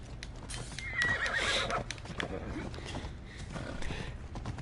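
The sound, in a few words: horse neighing in Assassin's Creed Odyssey video game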